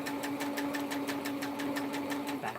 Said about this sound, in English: Back stitching it, locks it in place.